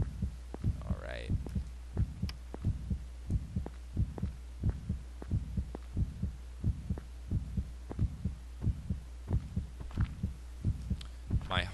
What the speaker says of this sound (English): My heart beating